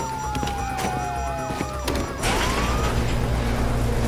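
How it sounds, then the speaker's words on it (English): A police siren in Grand Theft Auto V wails with a rising and falling tone over a low engine rumble, joined midway by a second siren sweep and a louder, denser roar. "you hear that? Siren!"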